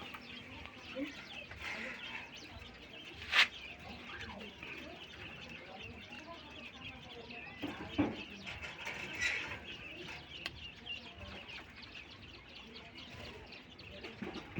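King quail and other farm birds call on a poultry farm: scattered clucks, coos and chirps with a couple of louder calls, moderately distant, over a low background murmur.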